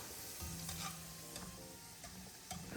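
Shallots are stirred as they fry in oil for chili crisp, with a soft, continuous sizzle and scattered light scraping and shuffling from the stirring, heard fairly quietly with no voices.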